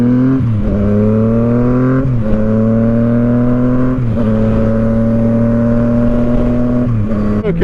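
A motorcycle engine at a bike meet revs hard against its limiter, holding a loud, buzzing high-pitched drone that dips and climbs again several times, close and continuous.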